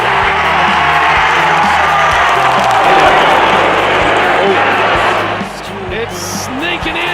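A large crowd roars continuously at an AFL final as Hawthorn lift, a dense loud wall of cheering and shouting that dips slightly near the end, with a commentator-style voice underneath.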